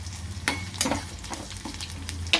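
Ginger frying in a pan, with a soft sizzle broken by a few sharp pops and crackles over a couple of seconds.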